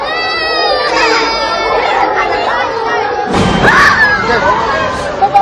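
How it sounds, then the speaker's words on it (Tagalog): Students at Demoloc Valley National High School crying and shouting as they evacuate classrooms during the 7.8 magnitude Mindanao earthquake: a dense, loud crowd of wailing and yelling voices, with a rising shriek and a few thumps near the end. "Iyakan at sigawan din ang pumalakaw sa Demoloc Valley National High School habang nagsisilikas palabas ng kanilang mga silid sa gitna ng lindol."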